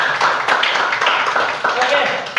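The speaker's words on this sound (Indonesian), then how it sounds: "Tepuk tangan dulu." A schoolroom class claps together briefly in a quick burst of dense, close handclaps, with a teacher's voice mixed in.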